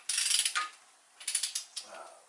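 Quick ratcheting clicks from a wrench torquing engine bolts on a longblock, two short bursts of rapid ticks separated by a pause, close and fairly quiet with no speech.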